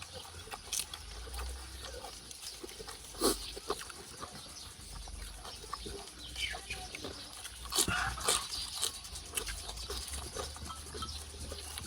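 A dog howls and whines in short, uneven bursts, fairly close, with people talking over it at an outdoor meal.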